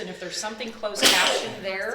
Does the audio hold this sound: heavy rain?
no